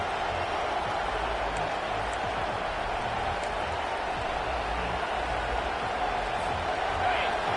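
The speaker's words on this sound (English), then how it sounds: "This crowd busting the decibel meter and trying to will a fourth down stop" A football stadium crowd roaring loudly and steadily during a fourth-down play, a dense wash of noise with no breaks.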